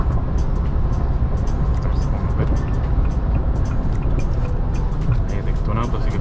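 Great Wall Poer Deluxe automatic pickup truck, a 2021 model, cruising on a highway: steady loud engine and road drone with constant tire rumble throughout, under someone speaking.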